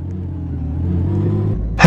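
A bus in the Canterbury & District Bus Simulator video game rumbles as it pulls away, a steady low engine drone that builds slightly before a sudden loud burst at the end.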